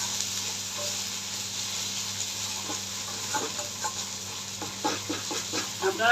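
A spice paste with turmeric, cooked down for a thin salted hilsa fish curry, sizzles and crackles softly in a pan as water is poured in, with light stirring scrapes growing toward the end.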